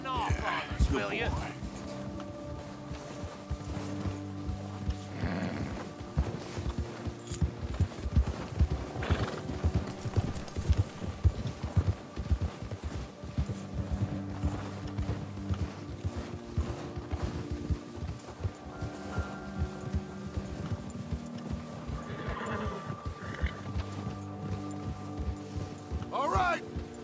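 Horses galloping in Red Dead Redemption 2, with steady clip-clop hoofbeats from several riders, occasional whinnies, and character voices talking over the ride.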